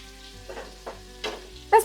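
Crunchy asparagus fries in a pan, a faint steady sizzle broken by a few soft bursts as the pieces are tossed, with no voices.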